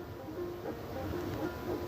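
A train passes slowly in the distance at night in Addis Ababa, giving a faint, steady low rumble with a soft mechanical drone that carries evenly through the whole moment.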